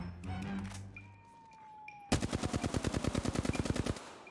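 Automatic gunfire in the shooter game Apex Legends bursts in as a rapid, loud, evenly spaced volley lasting about two seconds, after quieter game effects and a falling tone.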